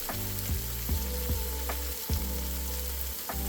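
Tofu stir frying in a hot pan, constant crackling sizzle with repeated scraping strokes of the spatula every half second or so, close and alone.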